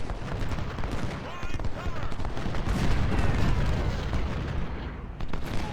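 Civil War troops in the strategy game Ultimate General: Civil War fire massed musket volleys, a continuous rolling crackle of gunfire with heavier booming bursts layered underneath.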